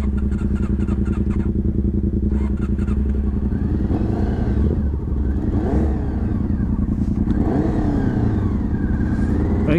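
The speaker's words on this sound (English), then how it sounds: "what I'm trying to ride a CB400 BabyBlade" A Honda CB400 sport bike is ridden with its engine running loud and close the whole time, holding a low steady drone with rising and falling revs and some clatter as it pulls away.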